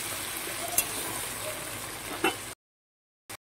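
Potatoes frying in a pan while being cooked lightly until reddish, a steady soft sizzle with a couple of clinks, then a cut to near silence with one brief burst.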